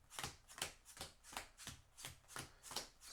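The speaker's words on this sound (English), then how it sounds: "So exciting live stream here of pile shuffling cards" Playing cards being pile shuffled for a Marvel Champions card game, a steady rhythm of about eight crisp slapping riffles, close and fairly quiet with no talking.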